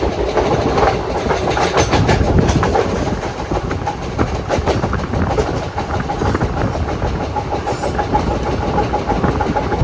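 The Pune–Ernakulam Superfast Express rolls along the Konkan Railway nearby, loud rumbling with a repeated clickety-clack of wheels over joints throughout.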